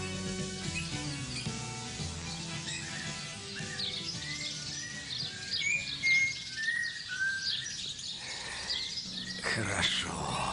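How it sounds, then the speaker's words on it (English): Chirping birdsong from a video game lakeside scene at dawn, with bright, wavering calls over a dense, music-like background that runs throughout. "the birds are singing their morning song"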